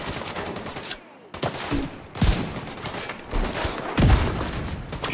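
Rapid gunfire bursts ring out in a Division 2 shootout, dense overlapping shots with louder cracks and booms, a brief drop near the start, then steady firing throughout.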